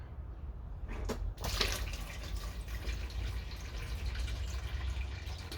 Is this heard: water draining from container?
yes